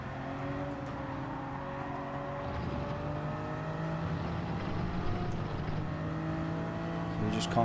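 Racing cars, a Nissan and a Supra, in Gran Turismo 7, engines droning and shifting pitch as they accelerate along a track, a steady layered engine tone at moderate level.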